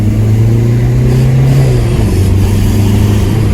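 An old 28-year-old VW Golf 3 with a tuned 1.9 TD diesel engine on its original turbo, accelerating; a loud, steady mid-range engine drone rises in pitch and then shifts down, with no voices.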